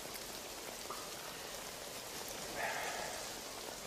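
Heavy pouring rain before dawn, a dense, continuous hiss of rainfall with steady even loudness and no voices.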